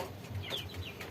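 Chickens with the respiratory disease snot, swollen and watery eyes, cluck softly at close range, a few short low calls over a faint noisy background with no speech.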